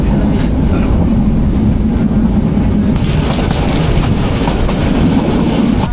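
A Nasirabad Express local train running at night between Feni and Chattogram makes a loud, steady, deep rumble of wheels and carriages, with a constant close roar and faint rhythmic clatter throughout.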